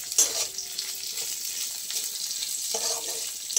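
Chilli chicken with vegetables stir-fries in a pan, giving a steady close sizzle with occasional stirring scrapes.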